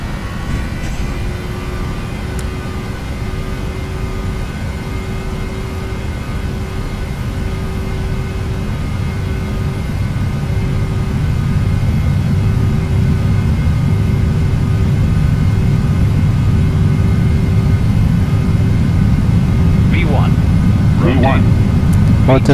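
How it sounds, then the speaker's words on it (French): Boeing 737-700 jet engines on the takeoff roll, a loud, steady cabin roar that builds in strength over the run, with a faint voice over it. "Décollage."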